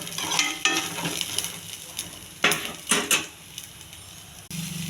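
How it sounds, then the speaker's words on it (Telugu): Raw plantain frying in oil for a tempering in a pan, close sizzling broken by several scraping stirs and metallic clinks of a spoon against the pan. "కొంచెం దూరగా వేగించుకోవాలి."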